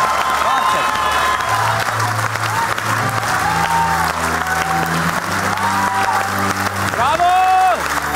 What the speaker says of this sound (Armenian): իհարկե ամենաբարձր ծափարությունների ներքո